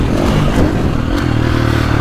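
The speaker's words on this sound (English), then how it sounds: "These KTMs rev out, but you feel that vibration when they're revving." A 2024.5 KTM 450 Factory Edition dirt bike engine revs loudly and close, its rough buzzing note rising and settling over about two seconds with some clatter.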